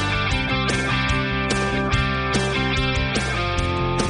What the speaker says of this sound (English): spectrograms can create comprehensible music if you convert it into audio